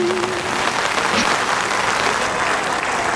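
Dense, steady applause from a crowd fills the space at a live Bengali retro music concert, a continuous wash of clapping with no break.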